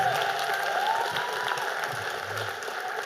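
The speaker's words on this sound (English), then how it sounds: "Give him a round of applause." Audience at a debating competition semi-final applauds steadily for about three seconds, a dense even patter of clapping from a seated crowd.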